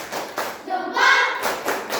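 A group claps together in a rhythmic salute clap during a training workshop, sharp bursts of applause coming in short patterns with voices mixed in between.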